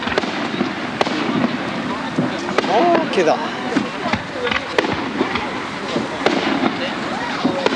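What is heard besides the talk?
fireworks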